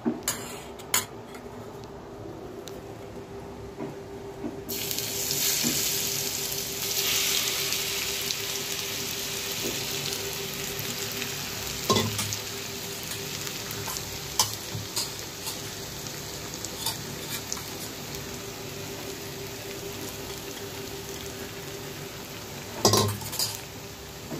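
Taro pieces dropped into hot oil tempered with nigella seeds: after a few quiet seconds a sudden, loud, steady sizzle takes over and continues evenly, with occasional light clinks of a utensil against the pan.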